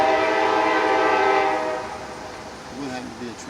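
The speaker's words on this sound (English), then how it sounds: "It would have to be a train going" A train rumbles past outdoors with a steady broad roar that fades after a second or two, leaving low background noise and a brief tonal whine near the end.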